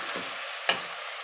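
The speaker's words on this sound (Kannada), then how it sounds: "ಕೊತ್ತಂಬರಿ ಪುದೀನೂ ಹಾಕ್ತಾ ಇದ್ದೀನಿ ಫ್ರೈ ಮಾಡ್ತೀನಿ" Coriander and mint leaves hit hot oil for a soya and vegetable pulao. A short, steady hiss of frying is broken by a soft stir and then one sharp scrape or clatter midway, with no talking.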